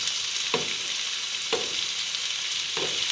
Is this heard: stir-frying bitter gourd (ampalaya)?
yes